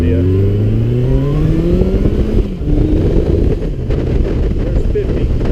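A 2013 Honda CB1100 motorcycle engine pulls hard through the gears on a road ride, its steady loud drone rising in pitch with each run under heavy wind rush, close up.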